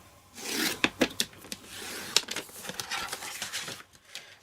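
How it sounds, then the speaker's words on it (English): A 12 by 12 inch sheet of cardstock is cut into strips with a paper trimmer, giving close, rasping slides broken by several crisp clicks and snaps, with no talking over it. "we'll need to cut the 12 inch by 12 inch sheet into 2 4 by 12 inch strips"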